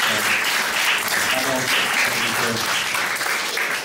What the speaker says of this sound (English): So please give a round of applause for our presenters.